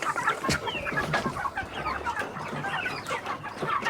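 Hens cluck and murmur continuously nearby, several birds overlapping in a busy, chattering stream with occasional sharper squawks.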